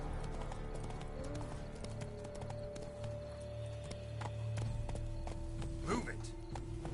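Horse hooves clip-clop at a steady gallop in the open-world video game The Witcher 3, with a faint whinny near the end and game sounds around it.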